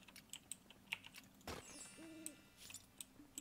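An owl hoots once in the Portal Knights video game, a short tonal call midway through, surrounded by quiet clicking and tapping that sounds like keyboard typing.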